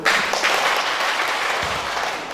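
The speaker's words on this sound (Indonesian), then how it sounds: "Tepuk tangan ya" Guests at a church wedding blessing clap together in a dense, steady burst of applause that stays loud and even for the whole moment, with no voices standing out.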